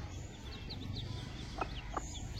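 Soft hen clucks and short chirps of chicks over a steady background hiss, with a couple of brief louder calls near the end.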